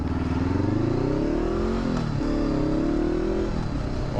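Motorcycle engine revving nearby, a loud buzzing note rising in pitch, briefly dipping, then climbing again steadily, with no voices.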